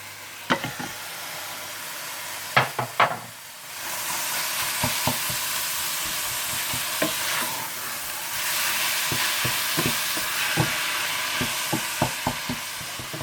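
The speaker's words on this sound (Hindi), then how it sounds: "आप इसमें कीमा डाल दें और अच्छी तरह से भून लें तेज आंच पर" Steady loud sizzling of minced meat frying in a hot pan on high heat, with intermittent scraping and stirring clicks throughout.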